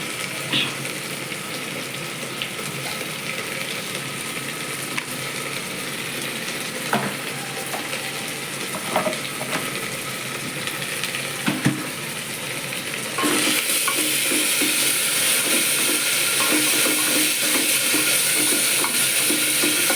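A curry with garlic paste fries steadily in a pan, a continuous close sizzle with scattered scraping stirs, growing brighter and louder in the final stretch.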